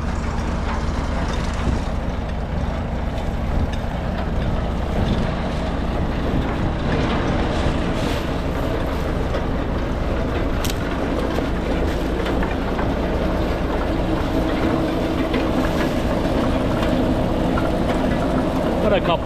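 A sawmill driven through the PTO of a roughly 90-horsepower tractor runs steadily, its engine and blade making a loud, continuous mechanical drone that holds through the whole stretch, with voices faintly present.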